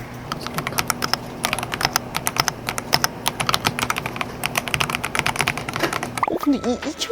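Rapid clicking keystrokes on a fairly quiet mechanical keyboard, close and continuous, with a low hum and a voice briefly speaking near the end.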